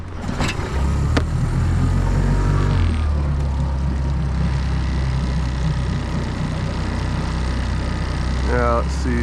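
A fishing boat's engine turns over and settles into a steady, loud low rumble at idle, close by and unbroken.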